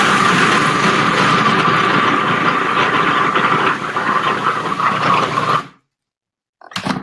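A blender or food processor pulses vegan holiday food with a loud, steady motor whir for several seconds, then cuts out abruptly. After a short silence, another brief burst starts up.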